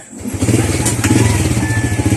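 Honda Wave 100 motorcycle, noted for slight white smoke and oil loss, idling in a shop: a close, loud, steady putter with a regular pulsing beat after it starts up.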